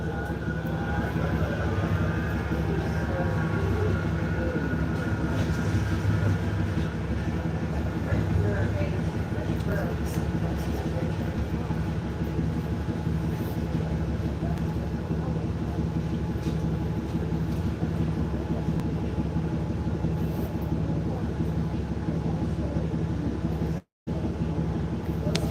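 A Manchester tram passes with a long, steady rumbling drone and a rolling hum that lasts throughout. It is fairly loud and constant, with brief higher whines and one abrupt cut near the end.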